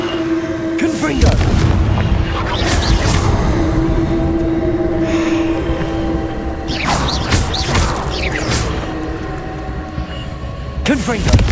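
Repeated Confringo blasting-spell explosions in Hogwarts Legacy, loud booming bursts recurring through the clip over a steady game drone, with a voice shouting the spell name.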